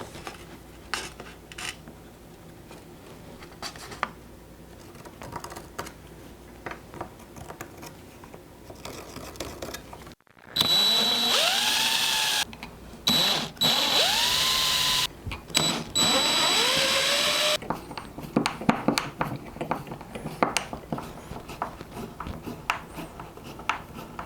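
In a small leather studio shop, a power drill whirs in several short bursts that wind up in pitch, boring holes for little shelf brackets. Quieter handling and shuffling noises come before and after the drilling.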